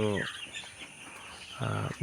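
Young broiler chicks about ten days old in a poultry shed give high, bright peeping calls in two short bursts, one at the start and one near the end, with quieter shed ambience between.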